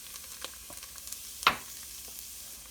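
Diced pepper, celery and onion, the Cajun trinity, go into a hot roux for shrimp étouffée, giving one short, sharp sizzling splash before the cooking falls back to a faint, quiet fry with no voices.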